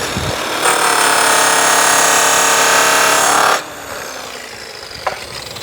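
A buffing wheel spins up loud and steady with a rouge compound bar pressed to its edge while polishing a MacBook Pro, a continuous bright whirring that runs about three seconds, then drops to a quieter hum and faint scraping.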